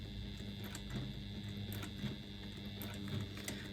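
Sewing machine stitching across a leather pocket, with an awl holding the top corner in place; a steady, continuous mechanical whir with faint rhythmic ticking runs throughout, close and fairly quiet, with no voices.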